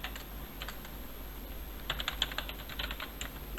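Typing on a computer keyboard while entering SQL query values, with quick bursts of close key clicks, sparse at first and then denser, over a low steady hum.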